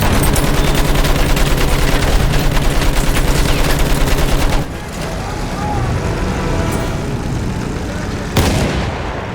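An enemy machine gun in Battlefield 1 rattles off a rapid, loud, sustained burst of close gunfire for several seconds, then cuts off. Softer battle noise and a single sharp shot follow, with voices mixed in.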